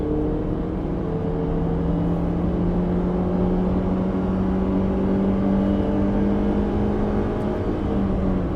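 Toyota Yaris 1.0 with an automatic gearbox accelerates at full throttle after a kickdown, its engine droning steadily and loud from inside the cabin, the pitch holding high and even throughout.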